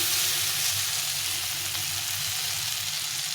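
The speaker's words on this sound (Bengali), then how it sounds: "সুন্দরভাবে ভেজে নিয়েছি" Steady, even sizzle of vegetables and spices frying in a pan for fish curry, a continuous close hiss of hot oil with no voices.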